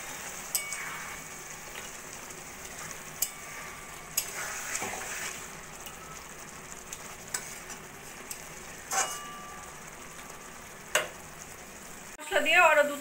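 Boal fish curry with garam masala and slit green chilies simmers in a pan, giving a low, steady sizzle and bubbling. Soft stirring taps and scrapes come up now and then, ending in a short, louder scrape.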